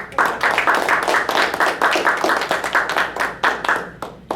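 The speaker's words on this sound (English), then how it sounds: "A round of applause for our Toastmasters today." A small group at a Toastmasters club meeting claps in a brief, close round of applause, individual hand claps distinct and fairly even before fading out.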